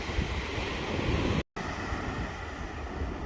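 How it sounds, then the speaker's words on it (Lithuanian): Ocean surf on the Portuguese coast rumbles in a steady broad wash mixed with wind buffeting the microphone, with a brief cut to silence partway through and no talk. "Dar truputėlį vandenyno."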